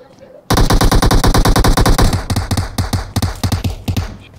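Rapid automatic gunfire in the mobile game PUBG Mobile, with a loud, dense burst of shots followed by slower, spaced single shots and taps that fade toward the end.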